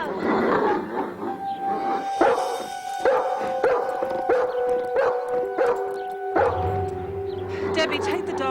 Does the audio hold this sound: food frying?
no